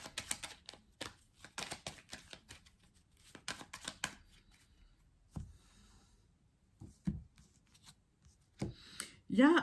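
A deck of tarot cards is cut and shuffled close up, with quick riffling and clicking bursts that start dense and then thin into scattered taps and soft handling.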